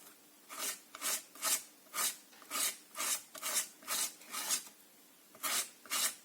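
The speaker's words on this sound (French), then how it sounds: "je gratte bien quand même, pour pas qu'il y ait de surplus" Rhythmic rasping strokes scrape excess paint along a stencil edge on a fabric pennant, about a dozen close, soft back-and-forth scrapes at an even pace with no speech.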